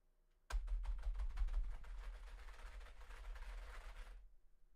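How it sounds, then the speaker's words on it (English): Rapid computer keyboard typing chatter, a dense run of close clicking keystrokes that starts abruptly and stops after about four seconds, alone without speech. "So keyboard chatter, weird noises."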